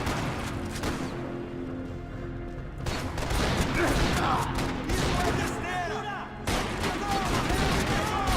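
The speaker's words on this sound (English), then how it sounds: "Of course, blind firing is a thing." Blind-fire gunshots from Max Payne 3, a loud chaotic volley of shots and ricochets with mechanical clatter, in bursts separated by a short lull.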